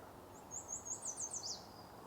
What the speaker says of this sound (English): Oh, purple finch.